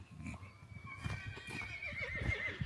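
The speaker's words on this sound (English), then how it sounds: "The horses are playing, they're running around" Horses whinny loudly and repeatedly while hooves clip-clop as they run and play in a sunny, chilly pasture, the calls rising and falling over soft background noise.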